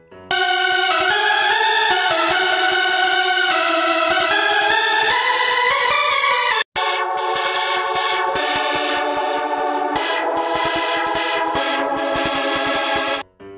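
Hardstyle synth lead built in LMMS, a loud distorted supersaw melody playing a continuous riff, then after a brief gap returning with harder rhythmic gated stabs, alone and full-volume.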